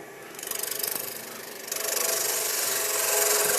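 Sandpaper rubbing against a spinning Brazil nut husk on a wood lathe, a steady close rasping hiss over the motor's hum that swells and grows louder partway through.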